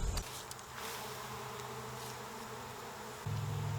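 A steady honeybee drone hums close by around a honey frame without a break, a low buzzing that thickens slightly near the end.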